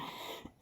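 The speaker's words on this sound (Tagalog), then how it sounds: "Yan pong ubo ko guys." A person's cough, one short harsh burst at the very end after a stretch of quiet low voice-like sound, close and loud.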